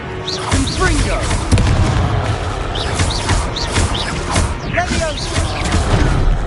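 A Confringo blasting spell explodes in the Hogwarts Legacy video game, with dull booms and thuds in a dense wash of combat noise, punctuated by bird-like chirps and overlapping voices.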